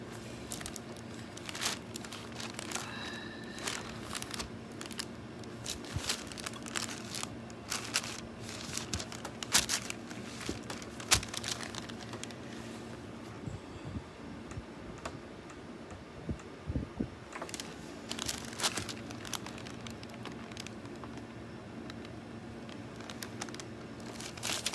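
Faint crinkling and rustling of scrap heat-transfer vinyl foil, small scattered crackles and ticks coming and going at a quiet level with steady background hum.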